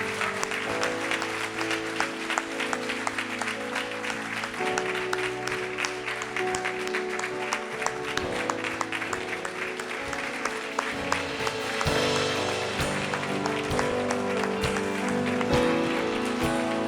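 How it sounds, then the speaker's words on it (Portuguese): Churchgoers give a long round of applause to God during an evening worship service, a sustained patter of many hands under sustained musical tones, growing a little fuller toward the end. "E se nós dermos para o nosso Deus agora uma grande salva de palmas, a melhor da noite"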